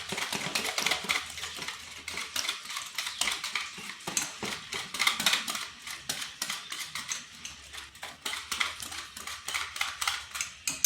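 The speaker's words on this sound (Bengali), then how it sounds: "ভালোভাবে মিশিয়ে নিচ্ছি।" Potato and semolina dosa batter with baking powder is mixed in a bowl, giving continuous close scraping and clinking of a spoon against the bowl in quick irregular strokes, with no talk.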